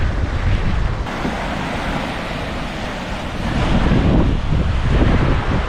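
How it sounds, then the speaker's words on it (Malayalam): Sea waves break and wash in at Kuzhuppilly beach with a steady roar, swelling louder toward the end, while strong wind buffets the microphone and nobody speaks. "ഈ തിരുമാല ഇങ്ങനെ പൊങ്ങി പൊങ്ങി പൊങ്ങി എത്ര ഉയർത്തി വന്നാലും അത് ഇങ്ങനെ നിലം പൊത്തുമല്ലേ"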